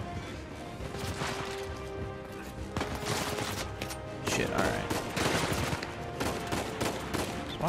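Gunfire in the video game Uncharted 4: repeated rapid shots and bursts with crashing impacts, loud and close, continuing throughout.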